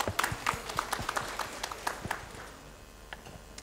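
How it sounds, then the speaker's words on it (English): Audience applause at a school's 40th-anniversary jubilee celebration, with scattered individual claps loud at first, then thinning and fading toward the end. No talking. "So big round of applause for that as well"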